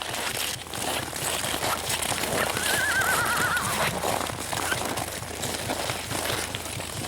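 Outdoors in southern Yakutia, with a steady windy rumble, a single short horse whinny rises briefly in the middle, faint against the background.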